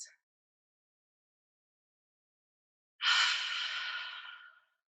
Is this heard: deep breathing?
yes